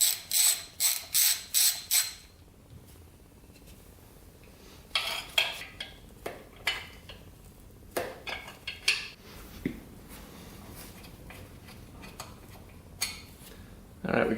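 Hand ratchet clicking in short bursts while loosening exhaust pipe bolts on an old gas-powered Harley that sat abandoned for years, a quick run of ratcheting at first, then scattered clicks, knocks and tool clatter.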